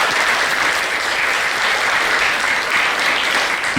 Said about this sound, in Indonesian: Tepuk tangan dulu buat remaja masjid.